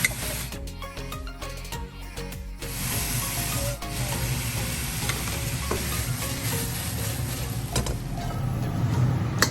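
Garlic stir-frying in a pan, followed by rice being tossed and scraped, gives a steady close sizzle with rubbing, scraping strokes throughout, no voices.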